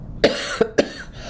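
Three sharp coughs, close by and fairly loud, the first two spaced apart and the last following shortly after, with quiet in between.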